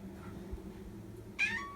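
A house cat lets out a single clear, fairly close meow near the end, after a quiet stretch of low room hum.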